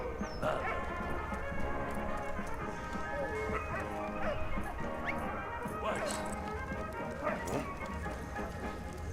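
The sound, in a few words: dog barking in the video game Valiant Hearts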